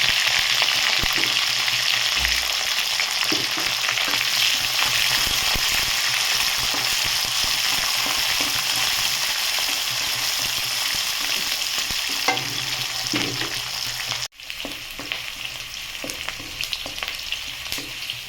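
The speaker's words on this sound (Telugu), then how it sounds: "తాలింపు అయితే కాలిందండి." Tempering of onions, green chillies and curry leaves crackles and sizzles in hot oil, with spatula stirring and scraping against the pan, steady and close for most of the clip.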